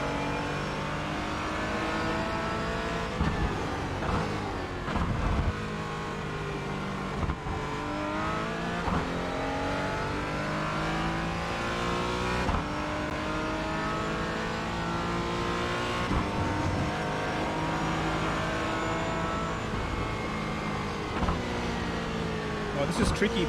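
A race car lapping in a racing video game on a dark track, with the engine rising and falling through gear changes and revs and occasional tire squeal, heard under a person talking.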